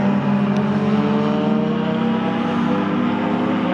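Race car in a 750 Motor Club Enduro Championship race at Silverstone, taking the Stowe right-hander, its engine a loud, steady, close drone held at high revs for the whole stretch with no talk.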